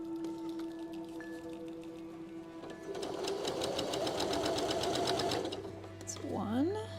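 A sewing machine stitches quilt blocks together in a steady, fast mechanical whirr, running close and continuously for several seconds before slowing, with a faint voice briefly at the end.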